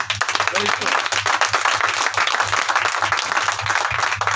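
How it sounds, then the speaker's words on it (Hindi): A church congregation at a convention claps together to glorify God, steady rhythmic clapping running throughout with a low hum beneath and voices mixed in. "आइए परमेश्वर की महिमा की तालियां देंगे"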